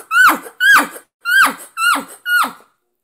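Five quick squealing calls in a steady, chuckling cadence, a human imitating an elk cow with a call and no tube, loud and close, each rising then dropping, separated by short silences.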